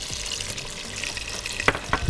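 Onion tipped into a hot pan for a meatless roasted-pepper spaghetti sauce, giving a faint continuous sizzle with two brief louder clatters near the end.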